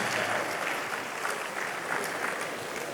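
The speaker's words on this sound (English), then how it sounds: "Can we give her another round of applause," Dense, steady applause from an audience at an investment summit in Anambra, a continuous wash of many hands clapping close by for the full length, with no talk over it.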